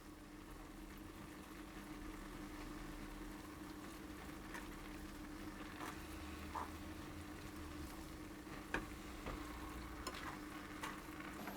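Mushrooms with lemon juice sizzle and fry steadily in a pan while being stirred, a continuous close crackle with occasional scrape and clink of the utensil.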